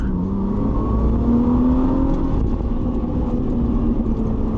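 Lamborghini launching hard on a timed acceleration run, a loud, steady engine roar climbing in pitch over several seconds, close and continuous with no talk.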